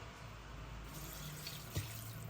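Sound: water pouring into cooking pot

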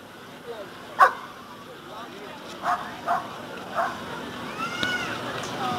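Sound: shepherd dog barking during training

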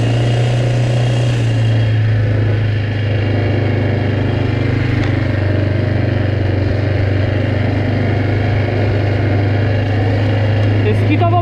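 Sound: Grizzly 600 4x4 ATV engine running at high revs

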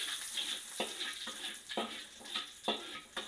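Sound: garlic being sautéed in a pan

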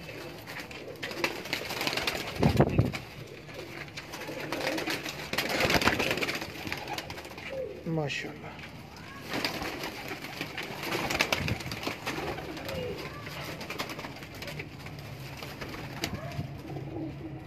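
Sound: pigeons cooing

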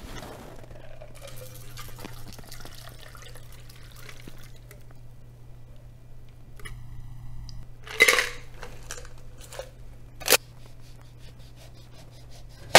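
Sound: double straining a Cosmopolitan cocktail through strainer and fine sieve

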